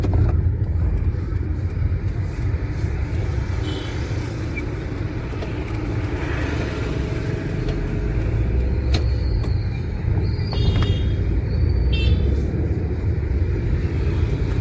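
Car engine rumbling steadily while driving with gear changes, a continuous close road drone with tyre and cabin noise and no speech.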